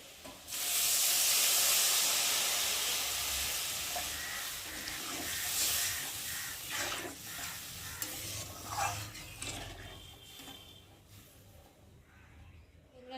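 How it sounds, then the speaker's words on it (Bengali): Pabda fish and potato curry on the stove, a steady bubbling hiss with scraping stirring sounds, loudest at first and then settling into softer simmering and occasional clinks. "তো চলো এখন আমি জল দিয়ে ভালো করে ফুটিয়ে নেব।"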